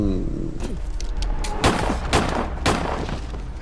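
Gunshots ring out in an action film scene, several sharp, loud cracks spaced about half a second apart over a low rumbling soundtrack.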